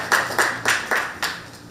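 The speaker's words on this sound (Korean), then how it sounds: "우리 박수 해드리겠습니다." A church group in a baptism class claps in slow, sparse unison, about five distinct claps at an even rhythm, close and clear.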